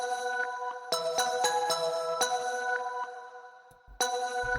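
A layered synth part with a phasey, shimmering tone from a production breakdown of a song rings in sustained chords, with sharp rhythmic stabs hitting at intervals and a brief drop before it returns.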